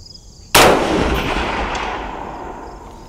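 A single sharp gunshot from a Ruger Precision Rifle bolt-action in .22 Magnum, loud and close, followed by a long fading echo.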